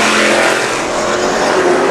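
A street stock race car on an oval speedway accelerates hard, its loud, dense engine roar steady and close throughout with no pauses.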